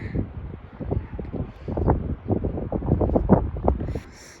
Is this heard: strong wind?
yes